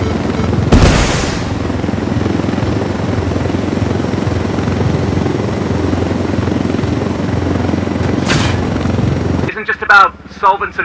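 A helicopter in the video game Ghost Recon Wildlands gives off a loud, continuous rotor roar. Two sharp bursts stand out against it, and voices talk briefly at the end.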